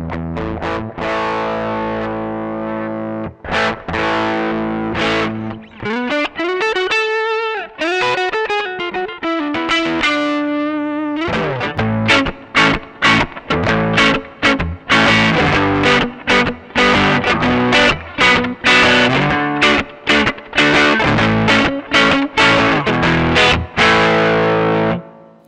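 Electric guitar played through a Joyo British Sound overdrive pedal dialed toward a Vox amp tone with bass reduced, giving loud, continuous distorted chords and riffs with a brief single-note passage, no talking.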